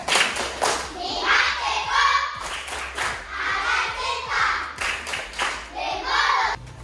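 A primary school class claps together in a rhythmic patterned chant-clap, sharp repeated hand strikes in bursts mixed with children's voices and a teacher's speech.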